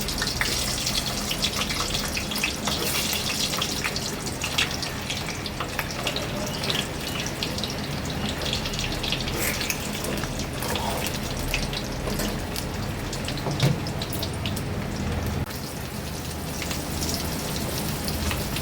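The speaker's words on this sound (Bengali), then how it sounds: "এবার আলুগুলো ভেজে নেব।" Boiled, salted potatoes fry in oil in a pan while chicken biryani is being made, giving a steady, dense, close sizzle that crackles like rain and continues without pause, with no talking.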